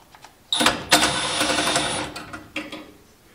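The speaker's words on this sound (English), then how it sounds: "I'm using my little impact just because it's long enough to reach in there" Short whirring burst of a small impact driver backing out a quarter-inch screw on a Carrier furnace, lasting about a second and a half, then a brief second buzz, close and loud.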